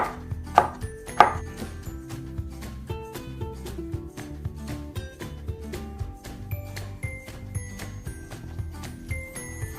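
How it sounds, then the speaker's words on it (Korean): A knife cuts a Korean melon in half on a cutting board, with a couple of sharp knocks early on followed by a run of soft, quick tapping and clicking close by. "참외는 이렇게 반을 잘라주세요."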